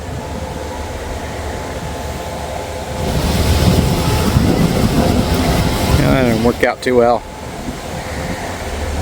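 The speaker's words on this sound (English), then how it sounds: "But I do hear the train." A train approaching a curved station platform, its low rumble swelling midway under a voice, followed by a brief sharp screech or horn-like tone before the rumble continues.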